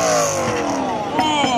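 A roughly 1,500 wheel-horsepower Camaro drag car roars through a burnout, its engine note sweeping and wavering loud and close over crowd shouting.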